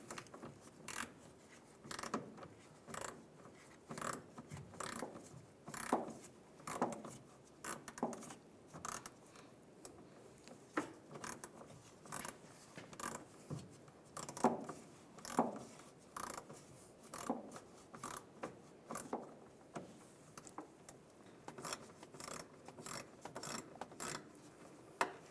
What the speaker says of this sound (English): I'm going to use an 8mm socket, and right above the gas tank there's a worm clamp. We're going to loosen that up.